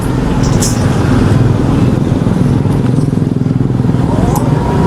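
A Yamaha RX King two-stroke motorcycle engine while riding, a loud, steady, rattling drone heard up close with wind noise, and a rider talking over it.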